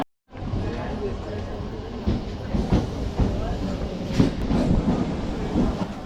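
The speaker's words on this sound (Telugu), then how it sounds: "ఇదే ఫ్రెండ్స్ మెమో ట్రైన్ రేణిగుంట నుండి నెల్లూరు వెళ్ళే మెమో ట్రైన్" A MEMU passenger train running from Renigunta toward Nellore rumbles steadily with a broad, continuous roar and occasional clattering bursts, loud and close throughout.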